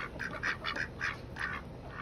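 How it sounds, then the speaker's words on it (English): Pekin ducks on a farm quack in a quick series of nasal calls, moderately near against a quiet outdoor background with no talking. "There's some ducks."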